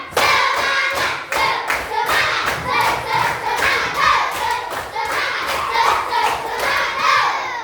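A class of fifth-grade schoolchildren claps a rhythmic chant together, sharp repeated hand claps in a steady beat with young voices chanting along, loud and close in a classroom.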